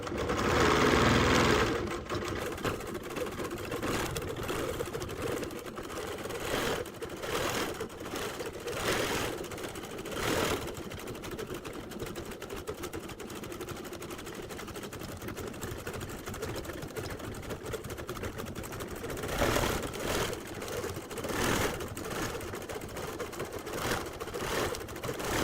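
A sewing machine stitching a quilt runs in steady, fast mechanical chatter close by, with brief louder bursts and pauses in rhythm, and no voice over it.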